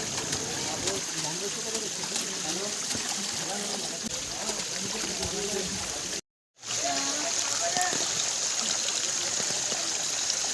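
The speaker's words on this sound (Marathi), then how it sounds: "पाण्याचा आवाज बघा किती छान येतोय" Continuous rushing of water flowing after heavy rain at Korigad fort fills the scene, with voices talking over it and a brief dropout of sound partway through.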